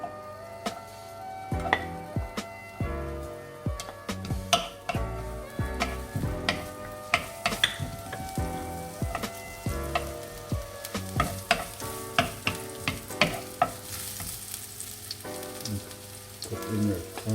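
Onions frying in rice bran oil, with a steady crackling sizzle and repeated scraping and tapping from a stirring utensil in the pan, close up and without speech.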